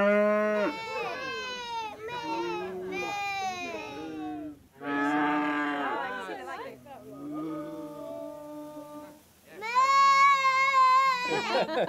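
Cow moos at a farm on a children's show, a series of long drawn-out lowing calls separated by short pauses, loud and close, likely imitated by voices rather than real cattle.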